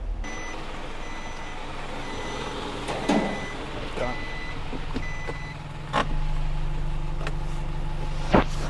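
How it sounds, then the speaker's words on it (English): Lorry manoeuvring in reverse, its reversing alarm beeping in a steady repeating pattern over a low engine rumble, with a few sharp knocks and a hiss of air along the way. "I can take it around there, spin it around in reverse on my driver's side"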